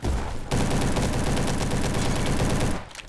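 An SM-03 submachine gun fires in Roblox Bad Business: one loud, unbroken burst of rapid automatic fire lasting a little over two seconds, then the shooting stops abruptly.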